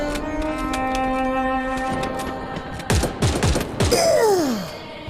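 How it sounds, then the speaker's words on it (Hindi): Gunfire in the Free Fire video game: a cluster of sharp repeated shots and impacts in the second half, following a sustained tonal music bed, ending with a descending whooshing sweep. "रोको, फायरिंग रोको।"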